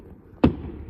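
A single sharp firework pop bursts out once, loud and close, then fades into a low background rumble.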